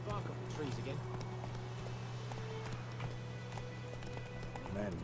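Horse hooves clip-clop in The Witcher 3, a steady trotting rhythm under constant game music and ambience, with a brief whinny near the end.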